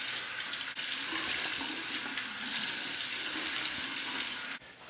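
A bathroom sink tap runs in a steady, unbroken stream to warm the face before a wet shave, close and fairly loud throughout, cutting off just before the end with no talk.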